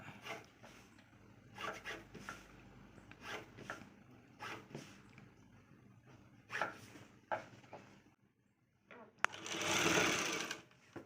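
Sewing machine stitching a cross-cut blouse, heard as short bursts of whirring separated by handling and rustling of fabric, ending in a louder sustained run near the close.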